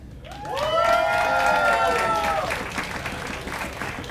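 A crowd at a chamber of commerce awards ceremony claps steadily, with cheering voices rising over the applause early on before the clapping carries on alone.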